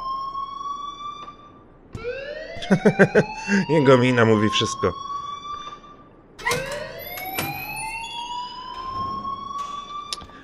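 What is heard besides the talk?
alarm ringing in the video game Life is Strange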